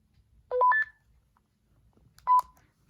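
Two short bursts of electronic beep tones as a walkie-talkie powers on, the first a quick rising pair, the second a single tone, sounding in a quiet room.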